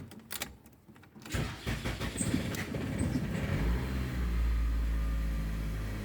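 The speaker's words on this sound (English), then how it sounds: "So we'll start the car." A 2001-2003 Toyota Previa engine cranks briefly with a few clicks, then catches and settles into a steady low idle rumble that continues to the end.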